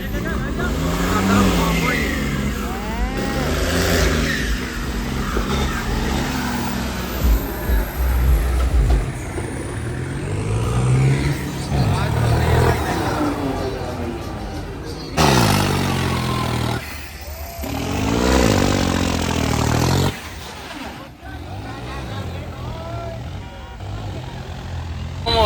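Modified tractors drive and rev at a festive gathering in Batala, giving a loud, continuous engine rumble with surging revs. Voices and crowd talk carry over the engines throughout.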